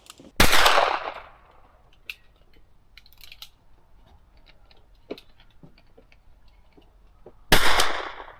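Two loud gunshots ring out at an outdoor shooting range in Austin, Texas, one near the start and another near the end, each a sharp crack with a trailing echo, separated by quiet clicks and faint handling noise.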